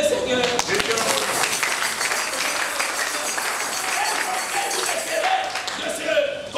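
A church congregation at a Sunday worship service applauds together, dense clapping sustained for several seconds with voices mixed in beneath it.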